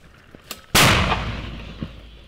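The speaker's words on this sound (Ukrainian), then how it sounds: "Увага! Постріл!" A mortar fires on a front line north of Kherson: a single sharp, loud blast that rolls off into a long reverberating tail outdoors, preceded by faint clicks.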